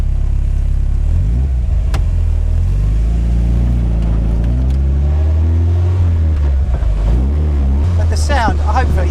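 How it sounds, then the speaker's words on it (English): An MK Indy RX 5 160 kit car engine hums steadily up close while its exhaust rasps through rising and falling revs, with brief talking near the end. "hopefully you can hear that exhaust rasping away"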